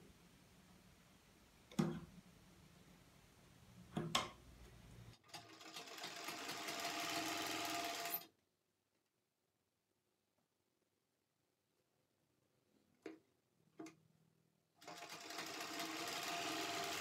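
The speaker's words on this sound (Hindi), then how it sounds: "और यहां पर सिलाई लगाएंगे।" A sewing machine stitching fabric sleeves runs in two loud, steady bursts of about three seconds each, separated by near silence broken by a few soft handling knocks.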